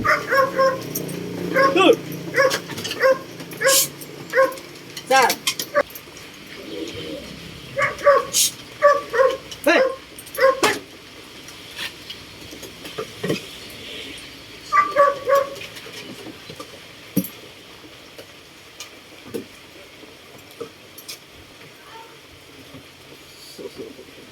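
A jealous dog barks and whimpers close by near a puppy, with repeated sharp yips and barks in uneven bursts mixed with whining, while people talk throughout.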